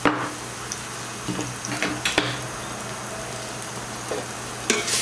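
Garlic frying in oil in a pot, a steady close sizzle broken by a few sharp clinks and scrapes of a utensil against the pot.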